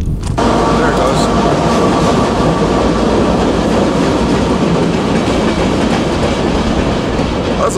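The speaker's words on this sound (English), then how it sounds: "That's a little train." A small train runs through a railroad tunnel, a loud continuous rumble with clickety-clack wheels on the tracks that carries steadily throughout.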